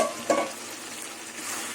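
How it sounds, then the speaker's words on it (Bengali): Mushrooms, fried nuts, capsicum and beans tossed together in a pan over a low gas flame: a quick scrape of the spoon opens, then a soft, steady sizzle continues close by. "মাশরুম বাদাম ভাজা সব একসাথে দিয়ে দিলাম"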